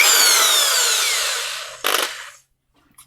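Electric drill boring into wood, a loud, steady whine that winds down over about two seconds, followed by a short burst of drilling and then near silence.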